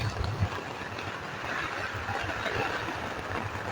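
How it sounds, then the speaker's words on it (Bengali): A boat moves through floodwater covering a main road in Sunamganj, Sylhet, giving a steady low rumbling wash that runs continuously throughout at moderate level. "মেইন রোডের উপর দিয়ে কিন্তু দর্শক নৌকা চলছে"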